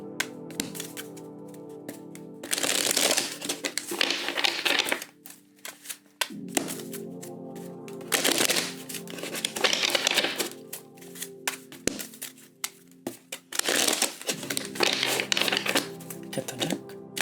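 Tarot cards shuffled in three bursts of crisp, rapid riffling and clattering, separated by short pauses with light handling noise.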